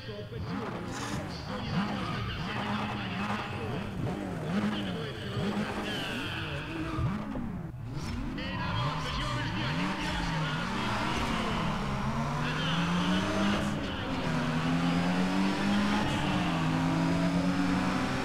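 Race car engines in NFS: ProStreet roar and rev continuously, rising and falling in pitch as cars accelerate and shift, with tires squealing and occasional talk over the top.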